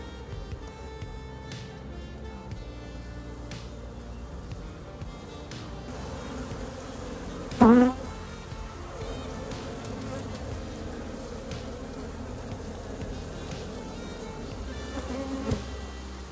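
Honey bees buzz continuously around an aggressive beehive, a steady swarming drone with one bee zipping loudly past close by midway and another nearer pass near the end.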